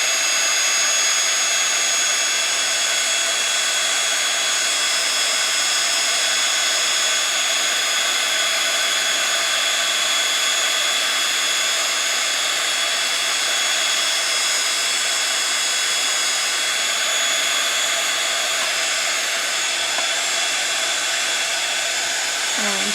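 Handheld drying tool blowing hot air over ink on craft paper, a continuous steady high-pitched whirring roar that stays close and loud for over twenty seconds.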